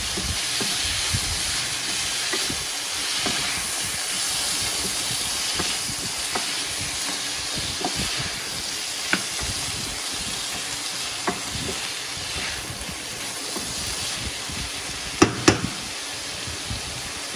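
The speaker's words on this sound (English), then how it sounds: "I'm just going to stir fry these vegetables so they're kind of al dente" Vegetables, including snap peas, sizzle steadily in a hot pan while being stir fried for a spicy Asian keto dish, a loud continuous hiss with occasional clicks from stirring.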